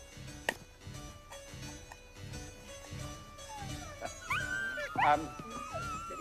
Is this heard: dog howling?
yes